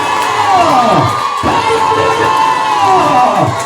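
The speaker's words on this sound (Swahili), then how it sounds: "Nasema shangwe na vigelegele" A church congregation cheers loudly and ululates in a dense, sustained wall of high trilling voices and shouts that fills the whole stretch.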